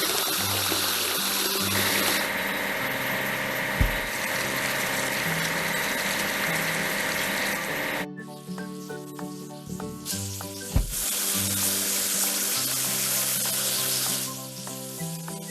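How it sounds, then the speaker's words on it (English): Water spraying over a cartoon grader, a steady hissing wash under a bright looping children's music track, with no talking. "Now let's wash the grader"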